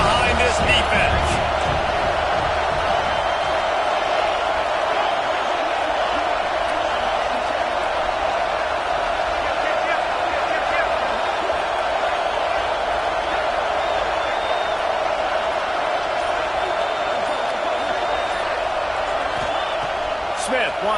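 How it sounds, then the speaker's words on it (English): Football stadium crowd roaring steadily in support of the defense ahead of a big third down in an Oregon game, a dense, sustained wall of cheering that holds at the same level throughout. "Big third down as the crowd gets behind this defense."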